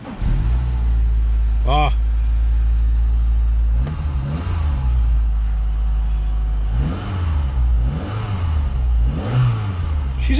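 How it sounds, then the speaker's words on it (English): A Citroën ZX Volcane's engine cranks and catches, then idles with several rising revs, loud and close, while a person briefly speaks over it. "It's in neutral, so it should start now."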